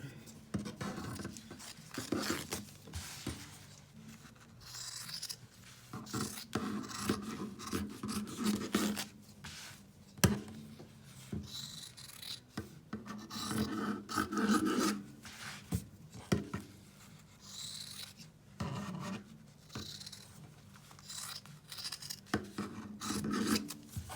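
Scissors trimming around an embroidered fabric appliqué for a Santa flap, heard as soft, close rasping snips and rubbing at an irregular pace, fairly quiet throughout.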